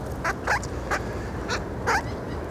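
Tame pet bird chattering indoors, a handful of short raspy calls spaced about half a second apart over a steady background hiss, close and moderately loud.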